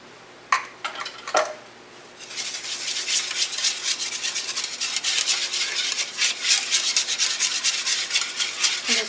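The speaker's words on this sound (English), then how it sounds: "I'm just going to whisk it all up." A whisk scrapes and rubs continuously against a pan of Salisbury steak sauce. It starts with a few sharp clinks, then settles into a steady, close, brisk rhythm.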